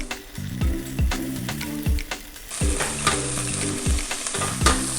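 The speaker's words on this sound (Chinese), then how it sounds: "两面要煎成金黄色。" Tofu pan-frying in a little oil over high heat, with a soft steady sizzle under repeated rhythmic clacking from a spatula or pan, close and moderately loud.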